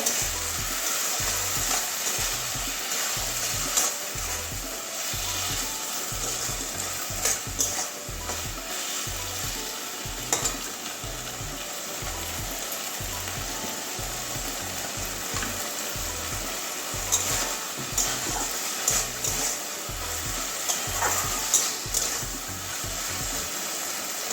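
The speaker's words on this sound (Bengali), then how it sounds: "এটা একটু ভালো করে কষিয়ে নেব" Okra frying and being stirred in mustard sauce, a steady loud sizzle with rhythmic scraping strokes of the spatula repeating throughout, no voices.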